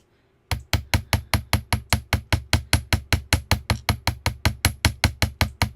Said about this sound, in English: when you hammer a piece of wire, guys, that's called work hardening